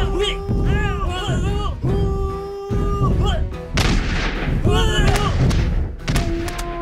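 Renaissance musketeers in a firing squad shoot volleys at an evil mammoth in Totally Accurate Battle Simulator. Repeated booming gunfire thuds come over a continuous stretch of sound.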